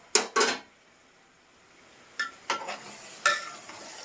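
Tamarind juice poured into a curry of softened tomato pieces cooking in a pan, heard as a couple of sharp clattering splashes and spoon scrapes with a light sizzle between, close and without talk.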